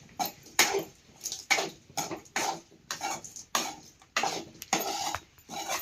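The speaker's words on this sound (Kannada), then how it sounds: "ಚಮಚ ತಿರ್ಗೊಂಡ್ರಿ" A spoon scraping and knocking in a cooking pan as dhaniya powder and garam masala are stirred in for a palya, sharp clinks and scrapes in short bursts about every half second, close and alone.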